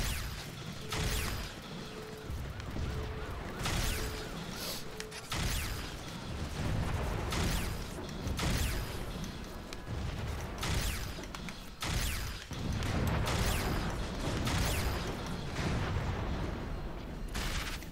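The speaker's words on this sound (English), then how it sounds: "Yeah, I like this launcher a lot better." A launcher weapon in the video game Crackdown 2 fires again and again, sharp blasts and crashing explosions repeating every second or two over a rumbling background, with mechanical clanks between shots.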